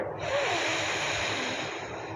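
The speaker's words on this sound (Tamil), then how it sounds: "வலது மூக்கு துவாரத்தின் மூடாக மூச்சு எடுத்துக்கொண்டு" A slow breath drawn in through the right nostril during a breathing exercise, a steady soft airy hiss lasting about two seconds, close and alone.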